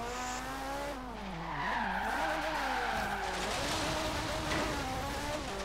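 A car drifts in the Forza Horizon 3 racing game, with a steady engine whine rising and falling while tires skid in a sustained screech. The sound is loud and continuous throughout.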